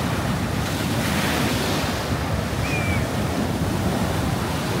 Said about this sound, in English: it's the sea just turns to something else when it's rough